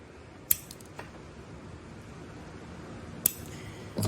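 Scissors snip fabric for a Breyer doll's pants, two crisp, sharp cuts about three seconds apart with a couple of lighter clicks between them, close and quiet with no talking.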